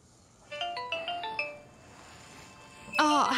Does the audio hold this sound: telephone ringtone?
yes